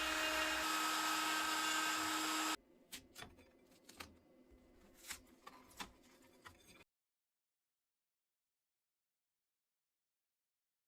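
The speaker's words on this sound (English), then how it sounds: "finally I cut out the carving with a 1/8 of an inch 2-flute compression end mill." A Foxalien Vasto XXL CNC router with a 1/8-inch two-flute compression end mill cuts out a wooden carving. A loud, whining cut lasts a couple of seconds, then sparse ticks and clicks follow before the sound falls silent.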